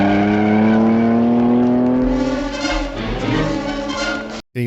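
A fancy sports car engine in a 1964 film scene, loud sustained engine drone with a rising pitch as it revs, then a shift in tone and a brief cut of silence near the end.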